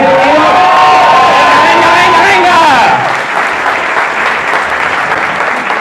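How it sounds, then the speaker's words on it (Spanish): A comedy club audience in Mexico City applauds and cheers loudly; raised voices and whoops ride over the clapping for the first few seconds, then dense applause continues alone. "Un fuerte aplauso a la gente que estamos aquí reunidos."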